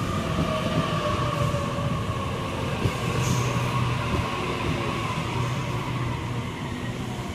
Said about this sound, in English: And a Waratah arriving on the platform number 1.